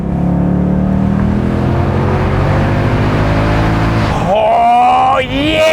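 An automatic Ford Mustang V8 in Sport mode roars loudly as it accelerates, then drops through several manual downshifts, each rising whine of revs climbing sharply near the end, with a steady engine drone throughout.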